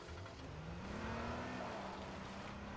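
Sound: police car driving in a video game

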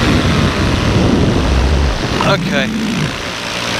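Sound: paramotor taking off

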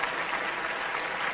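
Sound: applause

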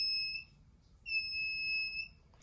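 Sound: proximity sensor buzzer alarm from coding kit

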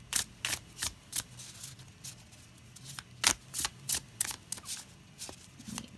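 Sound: tarot cards being shuffled

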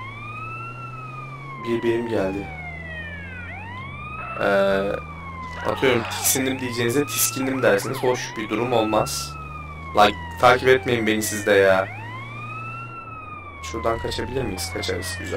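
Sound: ambulance siren in video game GTA San Andreas

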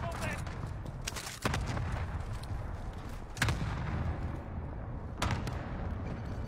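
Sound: gunfire from the new assault rifle in Warzone video game

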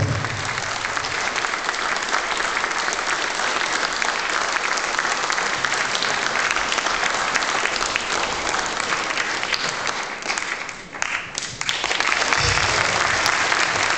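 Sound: audience applause at painting auction

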